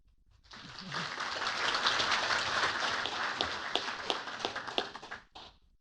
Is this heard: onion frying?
no